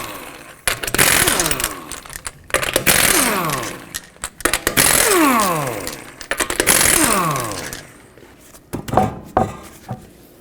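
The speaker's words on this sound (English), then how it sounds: "19mm socket, take off all of the lug nuts, and then we'll take the wheel off." An impact wrench with a 19mm socket spinning lug nuts off a 2004-2008 Acura TL front wheel, loud whirring bursts that rise and fall in pitch, repeated several times with short pauses between.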